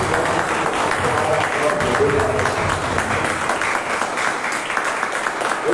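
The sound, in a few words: congregation applauding in church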